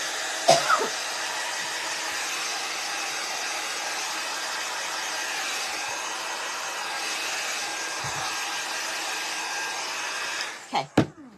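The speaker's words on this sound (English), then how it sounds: "Then dry it a little more. With the dryer." A hair dryer blows steadily on a decoupage craft project, a constant loud airy whir running for about ten seconds before switching off, followed by a few brief handling knocks.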